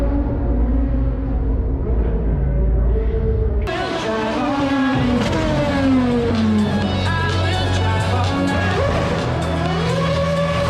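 Formula 1 race cars doing donuts on a Hollywood street demo, engines revving hard and tires squealing in a continuous loud roar with rising and falling engine pitch.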